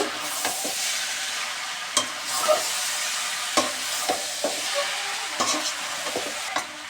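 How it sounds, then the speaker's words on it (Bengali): Chicken pieces sizzle steadily in a pan with onions while a spoon scrapes and stirs at irregular intervals, giving clinks and knocks over a continuous close hiss, no talking. "এখন আমি দিয়ে দিচ্ছি গোশগুলো, সম্পূর্ণ গোশগুলো দিয়ে দিলাম। এখন ভেজে নিচ্ছি।"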